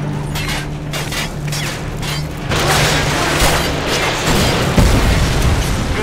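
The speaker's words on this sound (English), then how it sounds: "AGM missile is online." An AGM missile strike in Call of Duty Modern Warfare 2 slams down as a loud, sustained explosive roar, building midway into dense rumbling blasts and debris over mechanical battlefield hum.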